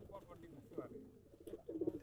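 Soft, low cooing of racing pigeons and their young repeats in short bursts, mixed with people talking nearby.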